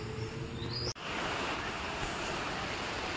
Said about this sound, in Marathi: तर त्या वॉटरफॉलच्या जवळ आलो आहे